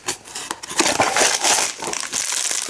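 A half-cut coffee packet is handled up close, giving bursts of crisp crinkling and crumpling that rise and fall in loudness.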